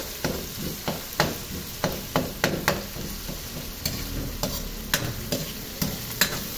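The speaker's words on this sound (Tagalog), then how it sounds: "Yan, gisa lang natin maigi." Pork and shrimp paste sautéing in a pan for pork binagoongan, with a steady sizzle and a utensil scraping and stirring in regular strokes about every half second, close and clear with no talking.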